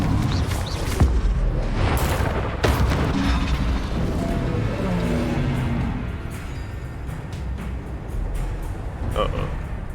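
Confringo explosive spell blasts go off during Hogwarts Legacy combat, with a couple of sharp booming bursts rising over the busy game noise while someone talks over the action.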